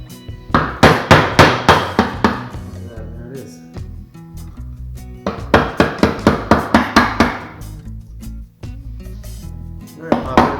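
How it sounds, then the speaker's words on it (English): A wood chisel is struck with a hammer to split apart a Jeep WJ Grand Cherokee transfer case, giving two loud bursts of rapid metallic hammer blows separated by a quieter gap. "Alright, so I'm going to use my wood chisel."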